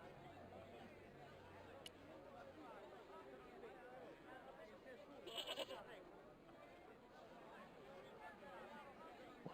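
A goat in the remastered Broken Sword II point-and-click game gives a short bleat midway, set against a murmuring, babbling background with speech-like chatter throughout.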